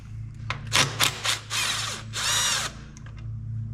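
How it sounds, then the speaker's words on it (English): A power tool loosens a bolt on a mower, its motor whining in several short bursts followed by two longer revving runs, close and loud with no talk. "Let me take that bolt there out too."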